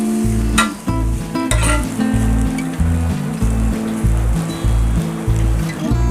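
Pork with mustard spinach, Assamese village style, being stirred in a pan: loud close sizzling with rhythmic scraping strokes and a low clanking rumble repeating through the stir, no voices.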